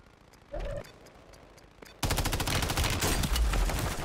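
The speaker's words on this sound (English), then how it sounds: "I am literally getting shot at behind a wall" Gunfire in a Rebirth Island video game match: a short muffled burst early on, then a sustained loud rapid string of shots near the end.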